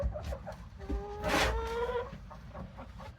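Laying hens cluck on a family farm with mobile coops, a few close, overlapping calls, one drawn-out squawk in the middle, and low rustling and shuffling beneath.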